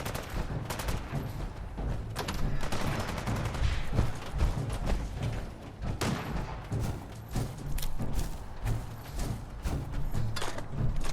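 Rapid gunfire from Fallout 4 on PS5, with dense bursts of shots and thuds crackling continuously at close range throughout, layered over a steady low rumble of game sound.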